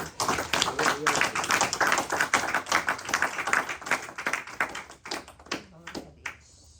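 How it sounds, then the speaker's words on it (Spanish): A church congregation claps in quick rhythmic bursts, close and fairly loud, thinning out toward the end, with voices mixed in beneath the clapping. "Denle un aplauso a Cristo"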